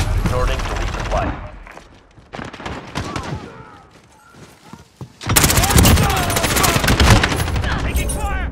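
Automatic gunfire from Modern Warfare (2019) in a hardcore Kill Confirmed match: dense, close bursts and rattling volleys, with a quieter gap in the middle before a loud sustained stretch of firing, mixed with voices calling out.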